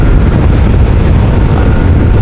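Loud, constant wind rushes and buffets the microphone at full strength while riding a motorcycle, a dense roaring blast with no break.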